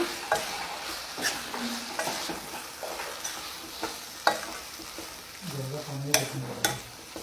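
Chickpea masala (chana masala) being stirred and fried in a pan: a steady sizzle broken by repeated scraping spoon strokes and a few sharper knocks against the pan.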